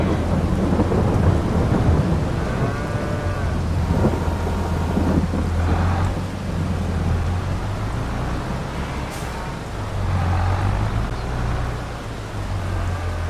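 Heavy rain and rolling thunder in Farming Simulator 22, a loud, constant downpour hiss with deep rumbles building and fading throughout, close and continuous with no talk.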